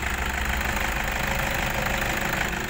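A Toyota Grand New Kijang Innova 2.5 G MT from 2013 with its 2.5-liter 2KD-FTV four-cylinder 16-valve diesel running, a steady close clattering idle with even knocking rhythm, no talk.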